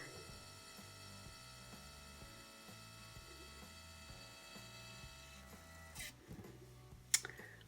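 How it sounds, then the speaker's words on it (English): HP Sprocket instant photo printer feeding out a 3x4 inch print, a quiet close mechanical whir with a regular repeating gear-like ratcheting pattern, ending in a few sharp clicks and a small clack. "And now we've got a little picture coming out."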